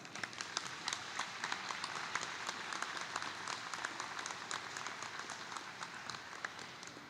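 Steady audience applause fills a formal award ceremony session for the Irmãos Bertussi medal, a continuous wash of many hands clapping at moderate distance, slightly faint, with no speech over it.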